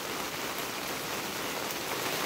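Steady rain falls on a garden on a wet day, a dense even hiss of drops with no pauses, close and constant throughout.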